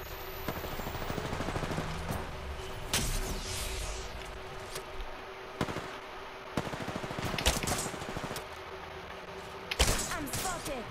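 Apex Legends gunfire: sharp single shots and short automatic bursts popping at intervals over a steady game background, with some talk mixed in.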